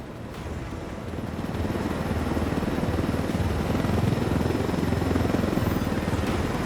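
A helicopter in Ghost Recon Wildlands drones steadily with a dense rotor and engine roar that swells slightly after the first seconds, loud and continuous with no voices.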